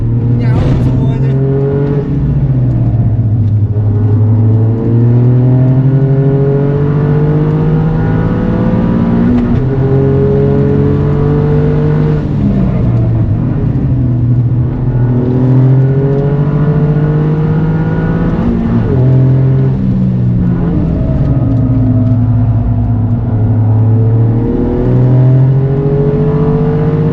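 A car engine revs hard on the Mandalika race track, a loud, close, steady roar that climbs and drops through repeated gear changes for the whole stretch, with no voices on top.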